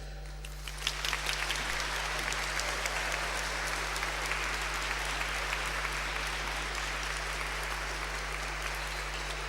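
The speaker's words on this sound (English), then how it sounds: "I want you to just clap your hearts out as I get across the stage." Graduation audience at Boston College breaks into loud, sustained applause and crowd noise that fills the hall and stays steady throughout, heard alone over a constant low electrical hum.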